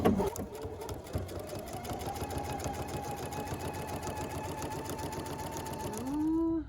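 A sewing machine stitches fabric for a quilted table runner, a close, steady rapid whirring and clatter that runs continuously, then slows and winds down at the end.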